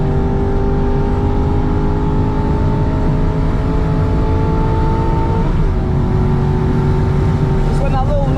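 An Aston Martin V8 Vantage engine drones loudly at high revs on the Nürburgring, its pitch climbing steadily then dropping at a gear change before rising again, with a voice talking over it.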